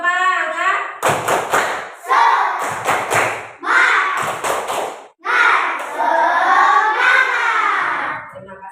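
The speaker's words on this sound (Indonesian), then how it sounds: "Coba tepuk semangat." An Islamic ethics class in Indonesia performs a rhythmic spirit clap, with sharp bursts of group claps and thumps set in a patterned beat. Children's voices chant between and over the clapping, close and loud.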